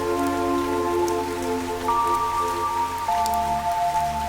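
Rain falls in the video game Fantasian Neo Dimension as a steady, dense patter under sustained musical tones that shift in pitch partway through, with no voices.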